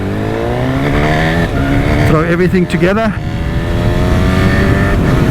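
A 2025 Honda CB1000 SP Hornet motorcycle engine pulls hard up an undulating road through traffic, its loud revs rising and falling across several gear changes, with a rider's voice talking over it and wind noise throughout.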